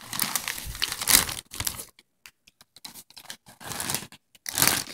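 Someone handles a bag of Spicy Nacho Doritos chips up close, with loud crinkling bag rustles and crunchy snatches broken by short quiet pauses.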